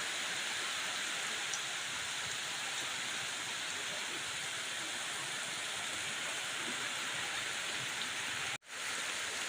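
Heavy rain pours in a steady, dense hiss that barely changes in strength and briefly cuts out near the end, with no voices over it.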